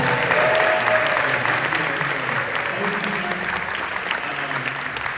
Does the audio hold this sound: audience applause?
yes